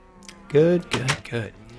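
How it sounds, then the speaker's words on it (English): Sheep in Minecraft bleat several times in quick succession, a few short wavering calls standing out clearly over a quiet background. "All of my sheep are suffocating themselves into these walls of doom."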